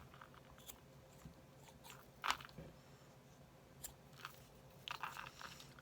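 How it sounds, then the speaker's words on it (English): Dull scissors cut twine for a handmade card, giving a few quiet, crisp snips spaced apart, the loudest near the middle, over a faint steady background. "I need to sharpen my scissors."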